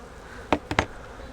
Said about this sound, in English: Most of the bees went back down on their own there for a second.